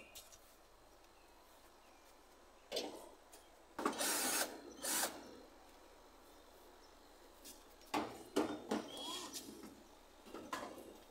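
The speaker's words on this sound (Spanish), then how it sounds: "Saca los tornillos de la parte de la tapa de arriba." Screws are being removed from the top cover of a split air conditioner's outdoor unit, with scattered bursts of ratcheting, tool whirring and metallic clatter separated by quiet stretches over a steady low hum.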